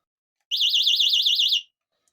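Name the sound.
alarm door wedge alarm going off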